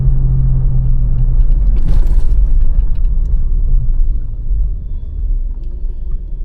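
Manual Montero Sport 4x4 with a stage 2 tune, driving along with a loud, steady low engine rumble and road noise throughout, a brief louder whoosh partway through, no talk.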